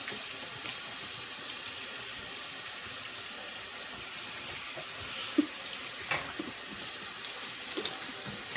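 A kitchen tap runs steadily with a continuous hiss of flowing water into a sink, with a few faint clinks toward the end and no talking.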